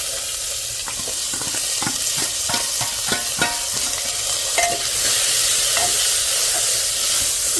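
Chopped onions sizzle in hot oil with cumin and asafoetida in a pan, a loud constant frying hiss broken by repeated scraping and stirring knocks of a spoon against the pan, heard up close without talk.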